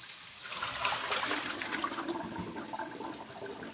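Water splashes and pours steadily into a cooking pot with chicken and onion for a few seconds, a continuous close rushing with some gurgling.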